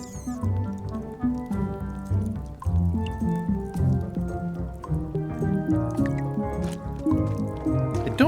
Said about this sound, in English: I don't remember this place being so leaky.